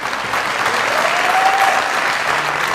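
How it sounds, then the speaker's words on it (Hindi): Audience applause at a Hindi shayari poetry recitation, steady dense clapping filling the whole short stretch at a fairly loud, even level with no talk over it. "तालियां बजा दे जरा पहले"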